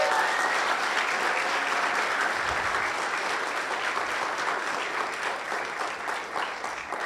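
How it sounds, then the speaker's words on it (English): Applause for an eighth-grade graduating class at an academy ceremony, dense sustained clapping from a large audience, steady and continuous throughout. "can we give a big round of applause to this 2022 Bennett Academy graduating class?"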